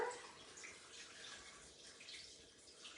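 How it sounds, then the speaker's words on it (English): Water poured into a pan of Rioja-style potatoes makes a faint, steady splashing trickle that runs throughout, with no talk. "we just add some water to cover."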